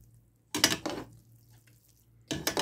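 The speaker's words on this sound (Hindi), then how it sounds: "अब हम इसको मिक्स करके डिश आउट करके बताते हैं।" A spoon scrapes and stirs through mutton dum biryani made with raw meat in a cooking pot, in two short bursts of clattering separated by a quiet gap.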